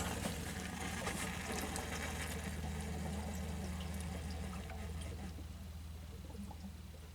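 Water drains from the lines of a Suburban ST60 RV water heater, a continuous, fairly quiet trickling and pouring wash with a steady low hum beneath it.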